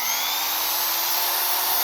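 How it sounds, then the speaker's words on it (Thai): A hammer drill powered directly by four solar panels in weak sunlight runs with a steady, loud high-pitched whine and broadband noise throughout, without any voices. "เจาะปูนกระแทกปูนมาหลายรูมาหลาย ครั้งแล้วนะครับ"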